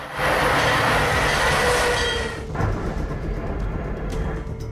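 A train roars past loudly with a dense rushing rumble, then fades to a quieter steady rattle as it moves away.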